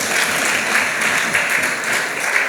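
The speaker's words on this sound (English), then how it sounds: "So let's clap." Loud, dense applause from an audience congratulating an honors law graduate, many hands clapping in a steady continuous roar for a few seconds.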